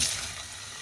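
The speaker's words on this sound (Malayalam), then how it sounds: "ഒരു പാത്രത്തിൽ ഇട്ടിട്ട് ഇതിൽ വെള്ളം ഒഴിച്ച് കുതിരാൻ വയ്ക്കണം" Water pours steadily into a bowl of chana dal being set to soak, a brief, continuous close splashing rush with no talk.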